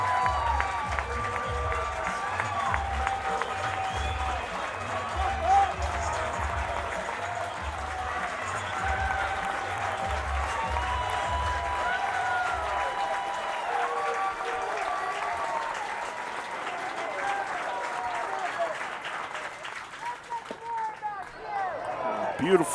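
Crowd applause at a college baseball game between Oklahoma and The Citadel, a sustained wash of clapping from the stands, with a commentator talking over it and the claps fading out near the end.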